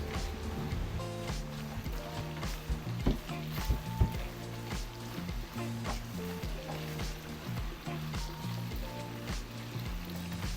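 Cabbage leaves frying in a pan for pigar-pigar, a steady crackling sizzle with clinks and scrapes of stirring over background music, continuous and fairly close.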